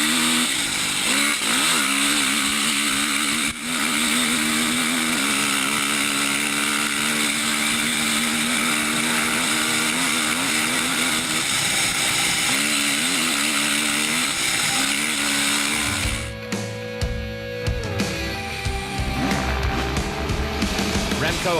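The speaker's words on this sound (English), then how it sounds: "the bigger bike of Grey Dick was making up lots of ground after he was started 10 seconds later than he should have been" Off-road rally motorcycles racing at the Kalahari 400 in 2012, with a bigger bike reaching up to 160 km/h through dust; a loud, steady engine drone with shifting revs runs throughout, changing character near the end.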